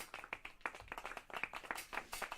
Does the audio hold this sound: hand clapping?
yes